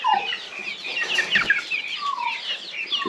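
Young chickens clucking and peeping in a close, busy chorus of overlapping high chirps, moved toward an open-air outdoor run by a mobile henhouse, with no talking.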